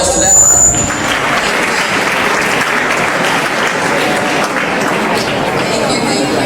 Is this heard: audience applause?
yes